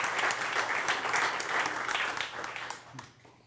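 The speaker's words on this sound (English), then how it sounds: "Give a round of applause" Audience applause after a talk, a dense burst of clapping from a crowd that holds for a few seconds and then thins out and fades.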